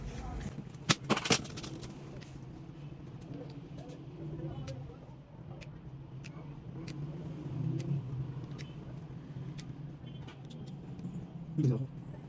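Several sharp shots from a 2025 Throne Gen 2 PCP air gun firing Bijan pellets in an accuracy test, a close cluster of cracks near the start and another later, over a steady outdoor background hum with someone talking.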